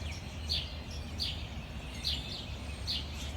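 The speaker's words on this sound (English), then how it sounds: "Listen to the birds." Birds chirp in short high bursts, about one every three-quarters of a second, over a steady low outdoor rumble.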